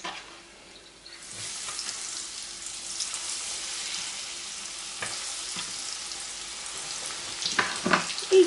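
Croquettes filled with cabbage and dried mushrooms sizzle in hot frying oil, a steady crackling hiss with occasional louder pops and clinks near the end, with no talking.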